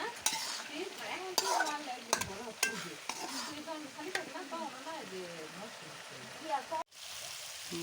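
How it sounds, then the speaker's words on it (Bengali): Fish sautés in a pan with a soft, steady sizzle under frequent spoon scrapes and taps. A voice is faintly audible in the background, and a sudden clunk comes near the end. "মাছটা কষাবো দিয়ে দিলাম"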